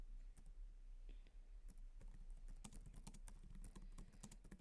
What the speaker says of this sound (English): My typing's all over the place.